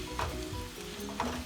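Tomato pieces frying in a pan, heard as a low, quiet sizzle with two brief stirring scrapes, close by and without speech.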